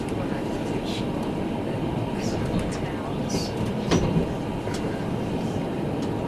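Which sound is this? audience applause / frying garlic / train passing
train passing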